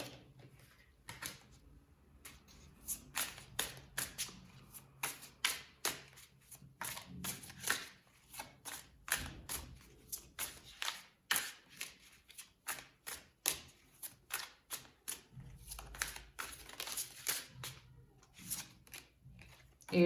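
Tarot cards are shuffled by hand in quick, soft, crisp riffles and slaps, repeated in an irregular rhythm for about twenty seconds, quiet and close, with little talk.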